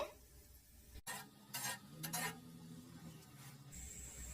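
Gulab jamun fry slowly in oil over a low flame, a soft sizzle with a few gentle stirring scrapes and light metallic clinks, heard close and quiet with no talking.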